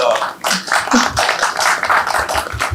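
At a panel session on health and welfare benefits, a standing speaker and others clap steadily, a dense run of close, sharp claps that carries on for nearly three seconds.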